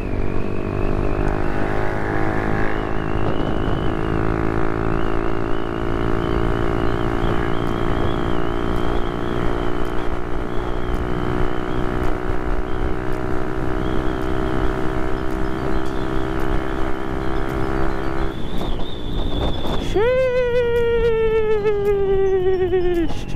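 A stock Honda PCX 160 ABS scooter engine held at high throttle on a top-speed run, a loud steady droning whine that briefly dips and then climbs again in pitch near the end.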